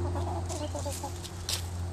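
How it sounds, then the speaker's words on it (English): Hens cluck softly close by over a steady low hum, with a few brief scratchy noises in between. "They're good chickens."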